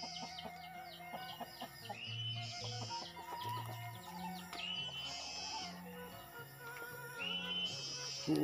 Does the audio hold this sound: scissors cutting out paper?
no